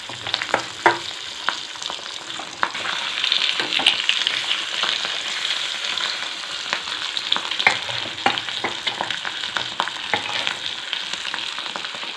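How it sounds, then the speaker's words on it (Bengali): Fish fries in hot oil with a continuous close, bright sizzle and frequent sharp spits and pops, plus occasional stirring, with no talking throughout. "এবার ফটাফট মাছগুলো একটু ভেজে নিই"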